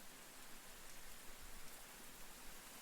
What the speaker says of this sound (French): Goûtez la douceur de la pluie.